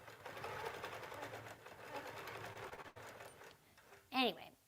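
A Q'nique 19 longarm quilting machine sews with a steady, soft mechanical whir and rapid stitching rhythm, quiet and close, with a brief pause and a voice near the end.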